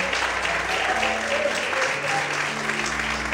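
Steady applause from a church congregation praising God at an evening service, many hands clapping in a dense, unbroken roar alongside sustained keyboard chords, holding an even, fairly loud level throughout.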